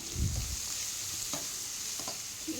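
Steady sizzling of cashews frying in a pan, with a few soft scraping stirs, close by and continuous.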